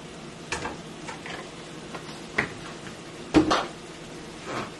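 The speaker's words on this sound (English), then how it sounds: "Give this a stir." Chicken being stirred in an oiled pan, a faint sizzle underneath a few scattered scraping and clattering strokes of a utensil against the pan, close by.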